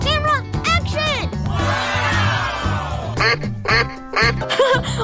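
Cartoon ducks quack repeatedly in a 3D animal slide video game, loud bursts of quacking before and after a stretch of noisy crowd-like game audio, with playful voices mixed in.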